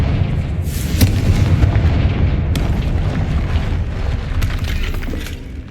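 Fiery Confringo blast spell from Hogwarts Legacy after a troll fight, heavy booming explosions rumbling continuously with sharp bursts near the start and middle, loud and close with no talking.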